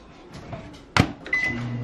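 A microwave oven is set and started for reheating a baked potato: a sharp clunk of the door or buttons, then a short beep and the low hum of the running oven, close by with no talking.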